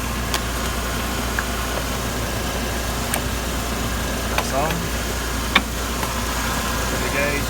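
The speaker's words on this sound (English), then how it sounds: "So again, excuse the noise, but you have to have the car running." A Mercedes SLK engine idles during an air-conditioning recharge, a steady low hum running under close talk with a few small clicks and taps from nearby handling.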